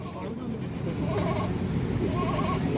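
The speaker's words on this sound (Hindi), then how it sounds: "ये देखिए ये बकरे" Goats bleat among the busy crowd noise of an outdoor goat market, with people talking steadily around them.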